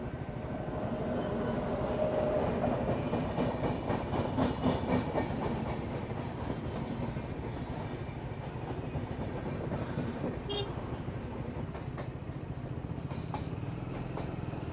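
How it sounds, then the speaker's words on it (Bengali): Trains pass on opposite tracks beside a road in India, a goods train going one way and an express coming the other, heard as a steady broad rumble with wheel clatter that swells and fades over about fifteen seconds. "এই দিক দিয়ে একটা ট্রেন যাচ্ছে, ওই দিক দিয়ে একটা ট্রেন আসছে"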